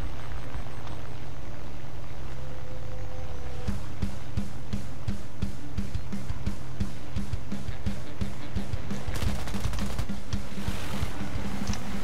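Rapid machine gun fire rattles in War Thunder over the constant drone of an XF5F fighter's engines, starting after a few seconds as fast, even bursts and growing denser near the end.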